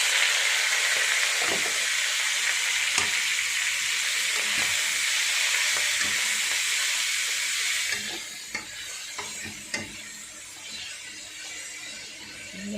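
Choy sum frying in plenty of oil gives a loud, steady, close sizzle for several seconds, then eases to a quieter crackle broken by scattered stirring clinks.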